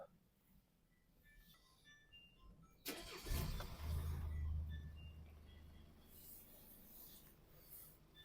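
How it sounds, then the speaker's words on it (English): A 2021 Mercedes GLE is started after a front brake pad replacement. After a quiet stretch the starter cranks sharply and the engine catches, settling into a low, steady idle that slowly fades. "after that I'm going to start the car"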